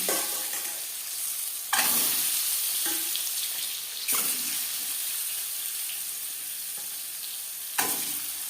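Eggs fry in a pan over a high-to-medium flame with a steady, close sizzle and hiss, broken by a few louder bursts of crackling as they hit the oil or get moved.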